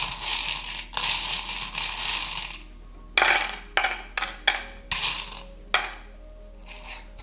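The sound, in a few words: metal charms being shaken and cast for a reading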